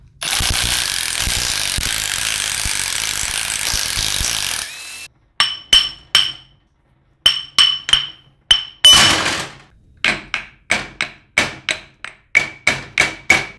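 Ring gear bolts coming off a two-piece 14 bolt differential carrier in a workshop: a long steady whir from a power tool, then a run of sharp, ringing metallic clinks and taps, loud and close.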